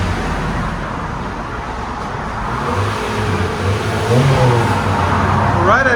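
A 2021 Honda Civic Sport with the 2.0L turbo engine and stock exhaust revs up from a muted idle, rising briefly twice, fairly subdued with road-like background noise.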